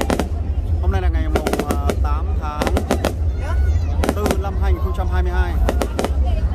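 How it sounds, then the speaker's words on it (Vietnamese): A fireworks display over Binh Minh Square in Cua Lo, Nghe An, Vietnam: loud, rapid cracking bursts and booms come in dense clusters over a low rumble, with people talking and exclaiming throughout. "Những màn bắn pháo hoa thật là tuyệt vời."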